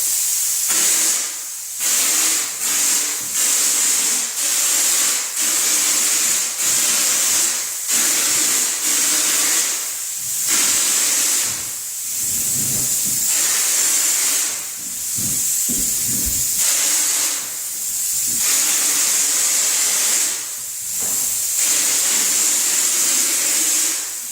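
A spray gun fed by an air compressor blows orange peel texture onto a wall, a loud steady hiss of air and spray with short pauses and bursts throughout.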